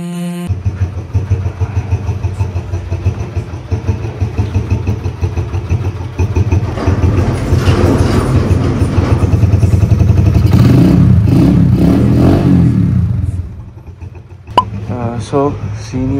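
A motorcycle engine idles with a steady low thrum, then revs up into a louder, rising roar before dropping back to idle, with a brief clack near the end and someone talking over it.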